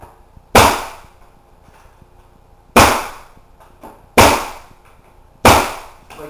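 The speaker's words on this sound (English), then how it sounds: "Take your nail gun, and at approximately a 45-degree angle, shoot the nail" Four sharp, loud nail gun shots fire at a 45-degree angle through the tongue of hardwood flooring boards during installation, each a crisp bang with a short decaying tail, irregularly spaced over a few seconds with faint room noise between.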